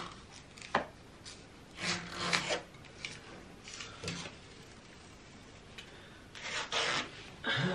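Wall decorations held by adhesive command strips are pulled and peeled off indoors, producing intermittent close scraping, rustling and tearing bursts with a sharp tap, separated by quieter pauses.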